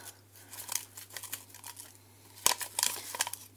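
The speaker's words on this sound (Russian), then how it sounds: "Посыпаем разрыхлитель." A packet of baking powder crinkles and rustles in close, intermittent bursts as the powder is sprinkled out while baking a quark cheesecake, with a sharper crackle partway through.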